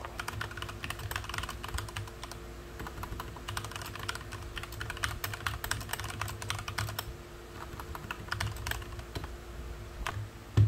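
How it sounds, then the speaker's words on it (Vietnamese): Rapid, crisp clicking keystrokes from a Keychron K8 mechanical keyboard fitted with Cherry Blue switches, typed close up in a quiet room with an uneven, busy rhythm throughout. "mình sẽ cho lại gần để cho các bạn nghe được âm thanh"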